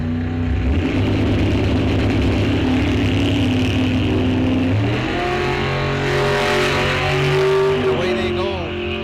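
A dragster launches down a bracket-series drag strip at Rock Falls Raceway, its engine roaring loud and close and climbing in pitch as it pulls away, with an announcer's voice over the noise.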